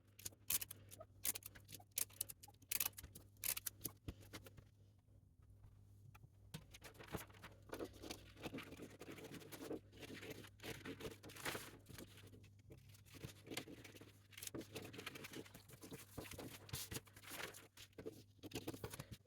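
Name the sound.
taping paper pattern pieces in place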